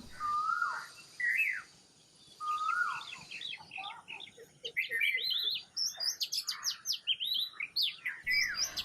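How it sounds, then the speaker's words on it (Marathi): In a small forest, several birds chirp and whistle nearby. Slurred calls rise and fall at first, then many overlapping tweets fill the air in a lively chorus. "अशा या दुर्मिळ पक्ष्यांमुळं आमचं छोटंसं रान समृद्ध झालं आहे."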